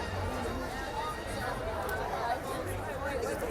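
Dense babble of a big crowd at Disney's Hollywood Studios, many overlapping voices and footsteps forming a continuous hubbub with no single speaker standing out.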